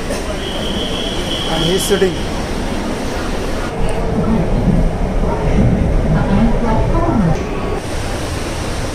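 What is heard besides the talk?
metro train riding to National Park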